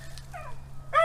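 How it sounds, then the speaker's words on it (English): A faint bark or whine in the middle, then a louder dog bark at the end, set against a quiet low hum. "Skippy's out and they're barking at Skippy"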